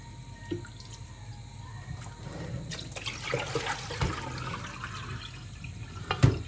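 Boiled chicken pieces are rinsed under running water in a home kitchen to wash off vinegar, giving a steady splashing trickle with scattered drips and handling knocks close by.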